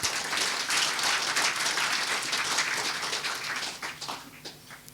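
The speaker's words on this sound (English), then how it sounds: "Please give him a clap for that" An audience applauds a former Speaker of the Dewan Rakyat at a leadership dialogue event: dense, sustained clapping from many hands, loud at first and thinning toward the end, with no talk over it.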